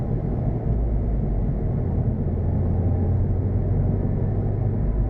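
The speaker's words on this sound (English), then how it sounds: "I love the sound of this turbo. You always hear the turbo driving around in this car." Turbocharged engine of a 2016 Subaru WRX while driving, a steady loud low rumble and road drone heard from inside the car, continuous without breaks and with no talking.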